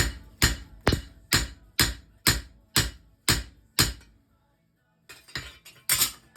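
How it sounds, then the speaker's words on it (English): Steady hammer blows ring out on metal at a forge, about eight evenly spaced strikes, then a short pause before a few more sharp, bright hits. "As long as I can keep hammering."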